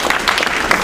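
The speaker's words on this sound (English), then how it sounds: "Give Brother Tyrone each, Brother Damon, and Sister Casey a round of applause" Audience applause at a lecture event for several speakers, a short steady burst of dense clapping from a crowd, loud and continuous with no voices over it.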